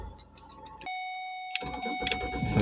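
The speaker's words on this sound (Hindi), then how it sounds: "चेक करें, अभी हमारी इसी स्विच से गाड़ी हमारी स्टार्ट हो रही है।" A Ford Escape with a no-crank, no-start fault sounds a steady dashboard chime, then two sharp clicks, followed by a low engine rumble settling into a quiet idle nearby.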